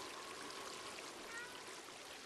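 Steady flowing water in the video game Stray, a soft continuous stream-like rush that stays faint and even throughout, with no voices.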